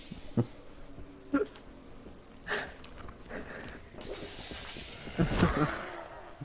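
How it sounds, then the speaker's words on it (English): Glass smashing in the Dead Island video game, with several sharp crashes and a bright shattering burst near the end, mixed with footsteps and game noise in the middle distance. "Sam, it doesn't matter if it's the end of the world, you can't just smash the glass."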